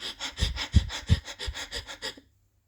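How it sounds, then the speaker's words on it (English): Someone breathes in and out rapidly through the mouth, about a dozen quick, close panting breaths in an even rhythm for roughly two seconds, then silence. "I actually want you to try inhaling and exhaling quickly."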